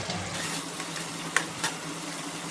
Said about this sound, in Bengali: ঝোল ফুটে গেছে, আমি এবার ভেজে রাখা মাছ দিয়ে দিচ্ছি এর ভেতরে।